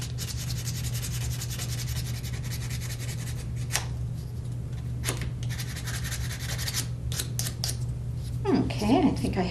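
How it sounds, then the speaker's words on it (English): A painted craft piece hand-sanded close up, a steady rubbing rasp running throughout under a low hum, with a few sharper scrapes and a brief rustle near the end. "I think I have this sanded the way I want it."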